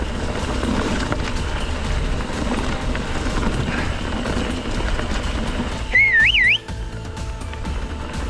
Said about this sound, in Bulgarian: Да не забравям да подсвирквам